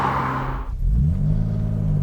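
Aston Martin DB6 classic car engine revving while driving, a brief, higher-pitched rev that breaks off into a deep, loud rumble.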